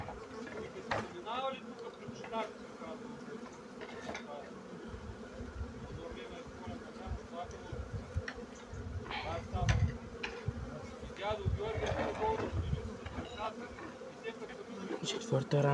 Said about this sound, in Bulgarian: Тук има пчелички и не искам да ги смачкам.